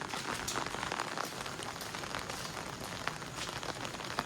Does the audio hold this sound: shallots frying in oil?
no